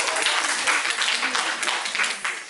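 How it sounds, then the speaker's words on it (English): At an education conference workshop, the audience breaks into brisk applause, dense and fairly loud, with a voice faintly under the clapping. "Applause."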